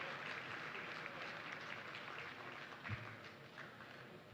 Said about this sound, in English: On va applaudir encore une fois nos premières dames